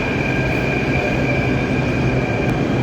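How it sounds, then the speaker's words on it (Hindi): A Delhi Metro Violet Line train pulls in at a station platform, a loud steady rumble of rolling wheels with a high sustained whine from the cars, no talking. "मेट्रो वेट कर रही थी, तब तक मेट्रो आ गई राजा नहर वाली जो कि वॉलेट लाइन है"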